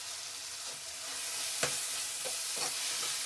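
Bisi bele bath powder for an avalakki bisi bele bath is stirred into a hot sizzling pan, a steady frying hiss with several scraping spoon strokes close up and no talking.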